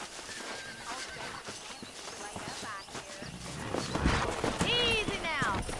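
Horses in Red Dead Redemption, a western video game, give rising whinnies near the end while hooves clop steadily underneath, with ambient game noise and a voice speaking over them.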